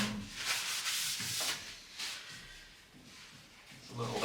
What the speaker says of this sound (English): get any of that loose surface wax that's been polished off or rubbed off of